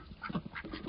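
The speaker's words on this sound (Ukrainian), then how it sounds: "качки такі." Domestic ducks quack in a loose, overlapping cluster at close range, several calls jostling in under a second with a faint farmyard background.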